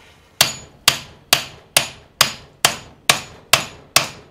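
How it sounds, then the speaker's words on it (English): A hammer strikes metal on a John Deere STX38 lawn tractor nine times in an even rhythm, each sharp ringing blow bouncing and decaying quickly before the next. "The hammer bounced. It felt more solid when I hit it."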